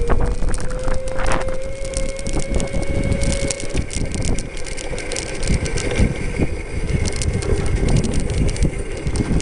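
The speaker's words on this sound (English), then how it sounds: "I want to see what it does as a full throttle right off the line." A 48V 1000W electric motor vehicle launches at full throttle from a standstill, with a rising motor whine over rattling and heavy wind noise that stays loud throughout.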